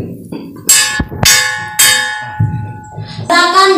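A bell is rung at a school debate competition to signal the next speaker, producing several loud, ringing clangs with a metallic decay, struck in an uneven rhythm.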